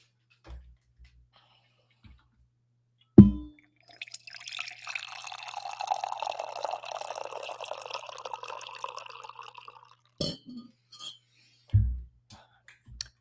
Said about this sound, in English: I'm going to pour some coffee